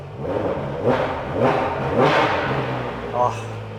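A voice imitates a Ferrari 599 GTO V12 engine revving, with several rising, throaty, bassy vroom bursts in quick succession.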